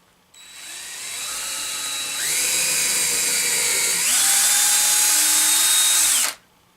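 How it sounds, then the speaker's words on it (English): Power drill boring holes in a 2x4 wood board: a loud, close, whining motor that steps up in pitch twice while biting into the wood, running about six seconds before cutting off abruptly, with no voices. "then I'm going to drill 3 holes."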